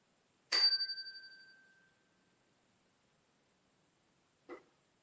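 A single bell rung in a hallway during a ghost investigation: one bright ring decays over about a second and a half, followed later by a short faint tap, in a quiet room.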